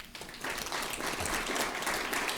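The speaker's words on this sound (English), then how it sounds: "Big round of applause for you guys" Round of applause from the audience at a municipal council meeting, a steady crowd clapping wash that swells after a brief start and holds at moderate loudness.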